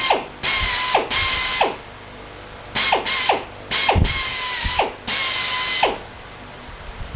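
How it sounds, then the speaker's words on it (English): A power drill whirs in several short bursts, each winding down with a falling pitch, separated by brief pauses. "I'm going to turn around and drill opposite way in my hand"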